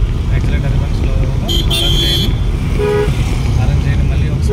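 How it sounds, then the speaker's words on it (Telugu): A car horn sounds during a driving lesson in busy traffic: one longer toot, then a shorter one, both loud over a constant low rumble of engines and road noise. "హారన్ చేయండి మళ్ళీ ఒకసారి"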